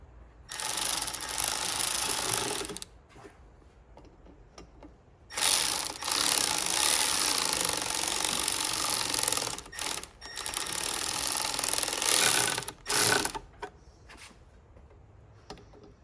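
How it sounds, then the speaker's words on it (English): A small power ratchet snugs down the cylinder head bolts on a Jaguar XJR during a head gasket job, sounding in several loud, close whirring bursts of a few seconds each with quiet pauses between. "gonna just nip them down to where they touch with the little power ratchet"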